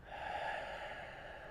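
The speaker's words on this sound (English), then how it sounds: "imagine breathing in deeply." A slow, deep inhalation during a guided breathing exercise, close and steady, drawn through the nose or mouth for over a second with no talking over it.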